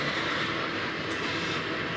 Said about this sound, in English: This should be the Union Pacific train. It is coming from the north. Ooh, you can hear the brakes going.